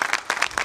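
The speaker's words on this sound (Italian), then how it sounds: "vi chiedo un grandissimo applauso per i portatori" A crowd at an outdoor religious festival procession applauds the bearers, with several loud bursts of clapping rising and falling in quick succession over a brief moment.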